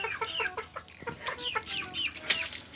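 Chickens on a goat farm cluck repeatedly in short, irregular calls, fairly close and clear, with no talking over them.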